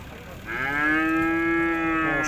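A calf at a livestock market gives a single drawn-out moo, close and clear, over low background market noise.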